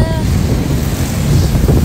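Strong wind buffets an outdoor microphone with loud, continuous low rumbling gusts throughout, and a brief voice is audible near the start.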